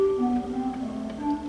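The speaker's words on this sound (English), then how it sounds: "a flute sounds like this," A pipe organ flute stop plays a soft, gentle sequence of sustained notes, smooth and airy in a reverberant room, heard on its own with no talking.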